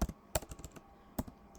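Typing on a computer keyboard while entering a product name in WordPress: a few quick, faint, close key clicks in short irregular bursts, with no talking.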